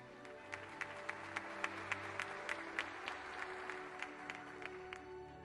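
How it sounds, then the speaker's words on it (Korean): Scattered applause from a small audience welcoming introduced guests at a 2020 fintech awards night, with light irregular claps over a steady low hum, moderately faint. "큰 박수 부탁드립니다."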